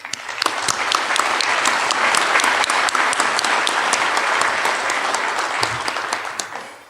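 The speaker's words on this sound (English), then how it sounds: "So please give yourselves a round of applause for your collective commitment." A seated audience at an annual community foundation meeting breaks into sustained applause, dense and even throughout before tapering off at the end.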